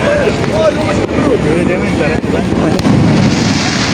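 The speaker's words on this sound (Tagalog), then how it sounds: "Hanggang ngayon may paputok po dyan." Firecrackers burst during the crowded Verbena de Sant Joan street festival near Drassanes. Scattered booms and pops sound at varying distances beneath constant nearby talking and crowd noise.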